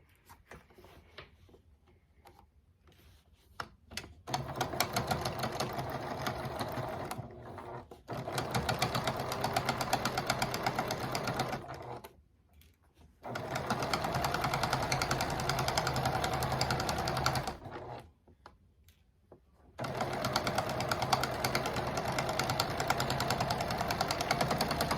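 A sewing machine stitching a drawstring tote bag with a clear vinyl panel, running in steady whirring bursts separated by brief pauses, close and continuous during each run.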